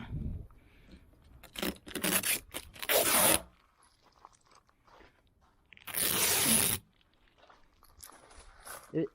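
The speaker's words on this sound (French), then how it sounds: "On va enlever le scotch." Two loud bursts of crackly ripping as adhesive tape is peeled off car paint, separated by quieter rustling and handling noises.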